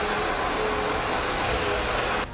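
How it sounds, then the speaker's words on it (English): Vacuum cleaner sucking up sawdust after jigsaw cutting during a custom Warhammer 40K Ork miniature build, a steady loud whooshing motor roar running throughout and cutting off abruptly at the end. "Hope you enjoyed that quick vacuum ASMR."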